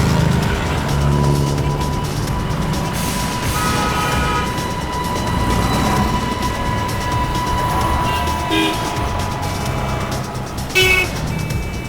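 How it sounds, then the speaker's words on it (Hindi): Busy road traffic with a white car approaching, a steady loud rumble of engines and passing vehicles overlaid by several short horn toots, including a sharp blast near the end. "लगता है यही गाड़ी है सफेद वाली"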